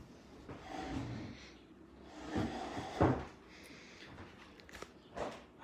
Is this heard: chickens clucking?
no